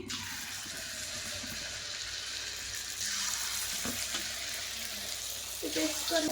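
Food frying in hot oil for a home-cooked Odia meal with paratha and tomato chutney, a continuous bright sizzle with a few clinks and bursts of spattering, heard close up.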